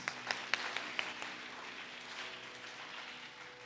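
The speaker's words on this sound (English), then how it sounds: "A big round of applause for Anuj" A brief burst of audience applause at a Bharatnatyam arangetram, a few sharp claps up front settling into soft, distant pattering that fades under a low hall hum.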